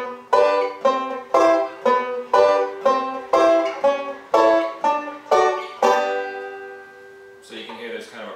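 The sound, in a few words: banjo vamping, percussive chord chop accompaniment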